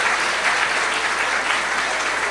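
Steady, dense applause from an audience at a Catholic preaching gathering, loud and continuous from start to finish with no gaps, a broad wash of many hands clapping at once.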